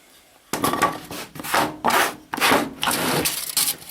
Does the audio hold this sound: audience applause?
no